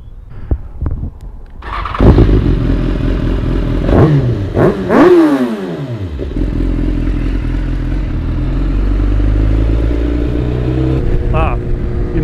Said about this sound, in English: And how about this exhaust though? It's a full Akrapovic system.